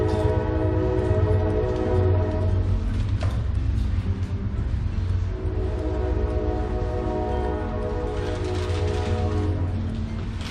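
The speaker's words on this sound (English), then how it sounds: "So I can hear by the train, that train line is still being used." Train rolling along a still-used line near the town of Jonesborough, Tennessee, a steady loud rumble of wheels with a sustained horn tone running throughout.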